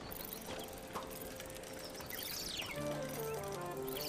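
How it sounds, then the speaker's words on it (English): A mechanical bird inside a fancy clockwork machine in a town-building video game chirps in a short run of bright tweets, joined by tinkling chime-like notes as the machine plays on. "Oh, there's a bird in there."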